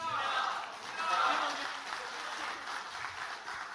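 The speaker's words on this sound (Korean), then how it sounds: "다시 한번 큰 박수 부탁드리겠습니다." Applause from the crowd at a ruling-party rally, a broad, steady wash of many people clapping that sounds somewhat distant and evenly sustained throughout.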